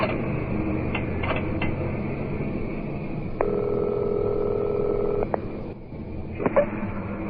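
A telephone in a phone booth is dialed in a 1960s radio drama. A steady electronic tone sounds for a couple of seconds over a low background hum, with faint clicks before and after.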